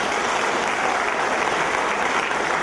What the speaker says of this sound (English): I request all of you to please give a big round of applause for the guests